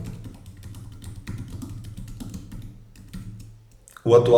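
Typing on a computer keyboard, a run of quick, soft, close key taps under a Portuguese-speaking voice, ending in a louder burst of sound.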